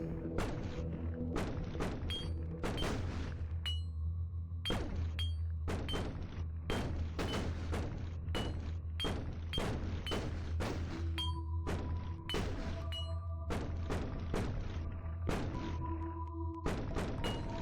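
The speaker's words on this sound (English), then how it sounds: "I don't know what's going on with all those explosions" Repeated explosions in the video game Theralite land as a series of sharp booming thuds at irregular intervals over a low steady hum, with occasional tonal game sounds in between.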